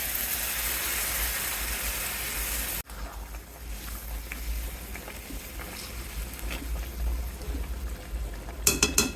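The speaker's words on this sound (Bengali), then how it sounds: "দিয়ে দিব গরম জল।" Hot water is poured into a pan of frying fish. A loud, dense sizzling hiss cuts off abruptly, then a quieter, steady bubbling sizzle continues, with a few sharp crackles near the end.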